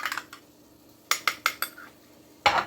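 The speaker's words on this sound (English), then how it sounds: "I'm gonna stir all of this in here. So let's stir." Paprika being stirred into ham steak and vegetables in a pot, a few sharp spoon-on-metal clinks and scrapes in quick bursts with quiet gaps, close and alone.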